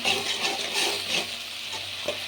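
Chopped tomato with salt and turmeric fries in oil as a steady, close sizzle, with stirring scrapes and gentle bubbling throughout and no voices.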